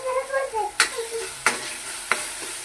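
Spices fry in a pan for chickpea curry, a constant sizzle with three sharp stirring scrapes about a second apart, close and moderately loud, after a short wavering tone at the start.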